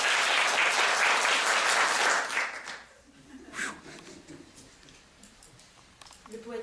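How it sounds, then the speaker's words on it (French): A crowd at a haiku slam applauds, a full, loud burst of clapping for about two seconds that breaks off abruptly, followed by quieter room noise and a brief voice. "Applaudissez des deux mains."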